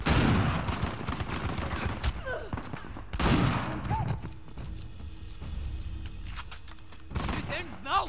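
Bursts of gunfire in Uncharted: The Lost Legacy, loud volleys at the start and middle with quieter stretches between, shouted voices and other game sounds mixed in.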